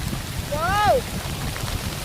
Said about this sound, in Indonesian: hujannya deras sekali teman-teman